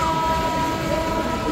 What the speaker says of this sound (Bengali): আমাদের ট্রেন এই মুহূর্তে সাঁইথিয়া জংশন ছেড়ে বেরিয়ে যাচ্ছে